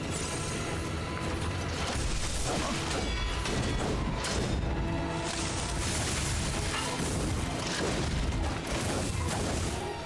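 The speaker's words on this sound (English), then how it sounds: "I forgot about the explosion." Explosion in the video game Lies of P, heavy booming crashes and debris bursts layered over dense game effects and music, loud and continuous with several sharp impacts.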